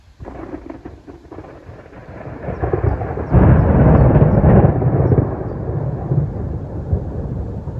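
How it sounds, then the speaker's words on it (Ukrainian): Loud, rumbling thunder swells suddenly and rolls on for several seconds, deep and heavy, with no talking. "Тільки зараз буде грім сильний."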